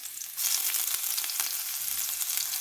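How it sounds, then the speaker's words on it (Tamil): Sliced garlic and ginger cut into long strips hit hot oil in a pan, the sizzle jumping suddenly louder about a third of a second in and then crackling steadily and close up, with no voices. "வெட்டினதெல்லாம் நான் இப்போ போடுறேன் உள்ளி போடுறேன் நீள சேப்பில் வெட்டி அதோட இஞ்சியையும் போடுறேன்"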